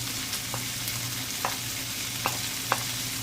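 Water spinach stems frying in a pan for adobo, with a steady sizzle and occasional clinks and scrapes of stirring; no voices.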